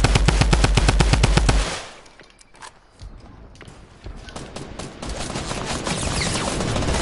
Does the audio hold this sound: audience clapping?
no